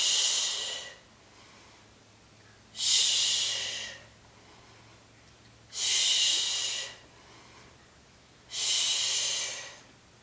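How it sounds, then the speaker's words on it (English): Four forceful exhaled breaths, spaced a few seconds apart, from someone doing sit-ups in a Pilates mat workout; each breath is a loud, airy rush lasting about a second over a quiet background. "Exhale as you sit up."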